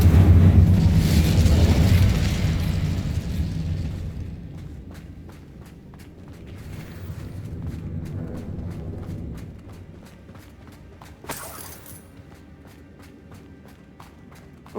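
A booming fire-spell blast from the Incendio charm in Hogwarts Legacy opens loud and close, then fades into rumbling, crackling game effects, rapid footsteps and a sharp pop near the end.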